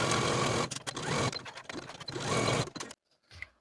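Sewing machine stitching the long edge and one short edge of fabric belt pieces for a peplum blouse, a steady motor whir broken by short pauses, then quieter handling near the end.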